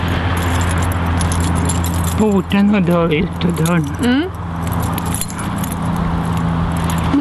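Jangling of a large bunch of keys under a woman's conversation, a steady metallic rattle running through the whole clip, close to the microphone.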